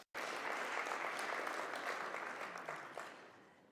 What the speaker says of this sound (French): un dernier applaudissement pour ce moment qui est tellement important, à savoir la signature de cet accord.